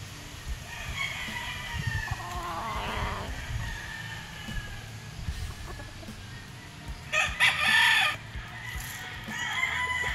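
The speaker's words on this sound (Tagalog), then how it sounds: "Grabe, ang ganda ng mga manok dito." Several gamefowl roosters, including Kelso birds, crow and hens cluck nearby, overlapping in a busy outdoor gamefarm yard with a loud crow rising near the end.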